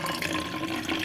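Borax water poured into a pot for making slime gives a steady, close, continuous splashing pour that fills the short moment without any speech.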